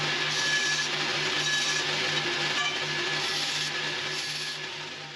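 Wood sawn through by hand, a steady continuous rasping stroke noise filling the clip close up, with a faint hum underneath and no talk.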